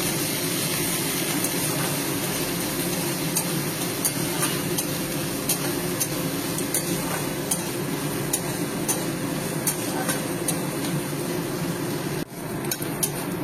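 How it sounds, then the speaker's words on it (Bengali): Onions frying in a pan for a Bengali fish roe kalia, a steady dense sizzle running throughout with faint stirring and utensil clicks, no talk. "পেঁয়াজগুলোকে লাল লাল করে আমি এবার ভেজে নেব।"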